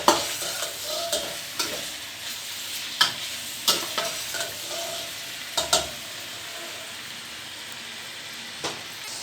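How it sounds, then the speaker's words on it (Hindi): Onions, tomatoes and green chillies frying in oil in a cooking pot, a continuous close sizzle broken by occasional knocks and scrapes of a stirring spoon. "उसमें हम ये प्याज, टमाटर और सब्ज़ मिर्चें ऐड करेंगे। ये थोड़ी देर के लिए भूनेंगे।"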